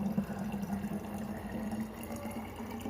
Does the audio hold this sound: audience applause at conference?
no